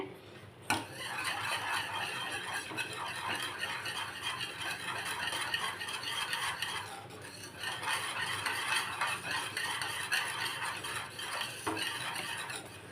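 A whisk beats rasam powder into lemon rasam in a pot, a continuous brisk stirring rattle of metal against metal, close and fairly steady, with a short pause near the middle and no talk.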